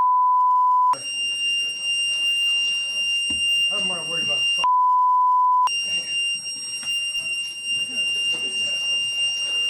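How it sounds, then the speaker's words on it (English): A loud, steady high-pitched fire alarm tone sounds through an indoor scene, with people talking over it and two longer flat beeps cutting in. "What the hell is that loud ass noise? Fire alarm?"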